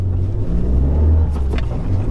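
An Abarth 500 Tributo Ferrari with a stainless straight-through exhaust idles with a deep, steady low growl, close and fairly loud, with a brief rev near the end.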